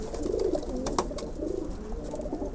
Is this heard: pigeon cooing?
yes